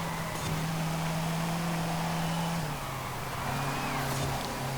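A Toyota Sports 800 races in A Class in Forza Horizon 5, its engine droning steadily at high revs, with a shift in pitch midway as the car works through a corner.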